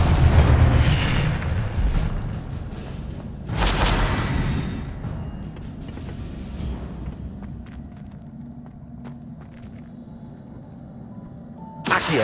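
Incendio fire spell cast in a video game: a heavy booming burst opens, a second explosive whoosh follows a few seconds later, then a fading crackling tail and a final sharp burst at the end.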